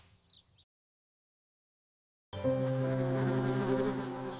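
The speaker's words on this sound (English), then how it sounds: "The bee is very busy." A steady, close bee buzz in a garden begins abruptly after a short silence, droning continuously with a slight wavering pitch.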